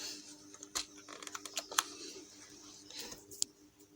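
A few sharp, quiet key presses on a computer keyboard entering a Ctrl+T shortcut, scattered clicks over a faint background hum.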